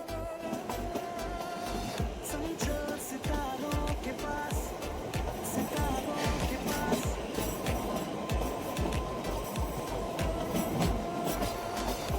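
A narrow-gauge toy train departs and rumbles along with rhythmic clattering wheels and metallic squeaks, steady and fairly close throughout, on the Kalka–Shimla line.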